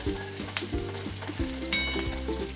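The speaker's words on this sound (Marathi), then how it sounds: "छान सगळं तळले लसूण मिरची." Garlic and chilli fry in a pan with a steady close sizzle, broken by regular scraping stirs of a spoon against the pan.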